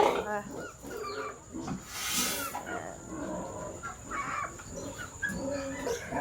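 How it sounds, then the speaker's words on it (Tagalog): Pigs on a swine farm grunt and squeal at morning feeding time, a busy mix of snorts and cries at close range with clattering in the background and a person speaking at times. "Sa akin po kasi nakatoka ang pagpapakain ng baboy."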